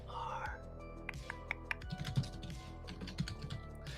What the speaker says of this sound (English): Don't mind my typing